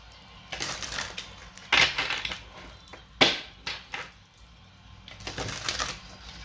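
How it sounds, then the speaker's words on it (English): Tarot cards being shuffled by hand in several separate bursts of crisp riffling and slapping, close and fairly loud against a quiet room. "I love the way these cards shuffle."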